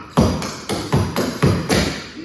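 Tap dance steps from a routine to "Don't Rain on My Parade" land as about six sharp, heavy stomps and knocks in an uneven rhythm, loud and close, with no talking.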